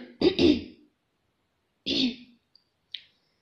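A person with a seasonal cold clears their throat and coughs: two rough, close bursts, then a pause and a third, followed by a couple of faint small clicks, with no talking.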